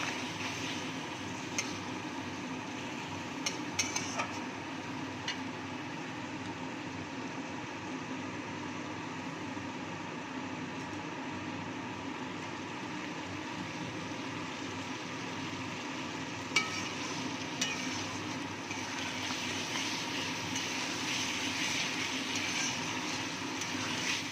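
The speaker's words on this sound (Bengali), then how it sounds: "বেগুনটা দিয়ে আমি ভালো মতো মশলাটা কষিয়ে নেব।" Brinjal frying with spice masala in a pan for an eggplant and bori curry, a steady soft sizzle with faint occasional stirring scrapes that stays even and low throughout, with no voices.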